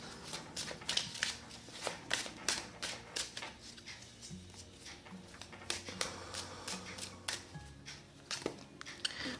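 Tarot cards being shuffled at close range, a quiet run of rapid riffling flicks and soft slaps repeating steadily throughout.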